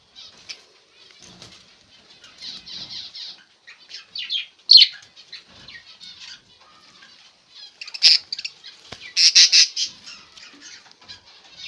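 Female budgerigars squawk and flutter their wings in bursts as they are let go one by one from a breeding setup, with sharp chirps and flapping clustered in two busy spells.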